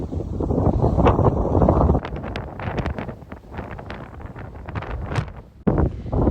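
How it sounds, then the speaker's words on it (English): Strong headwind roars loudly against the microphone while walking in the Pyrenees, surging in heavy gusts with rustling buffeting noise throughout. "before we started being hit by a very strong headwind"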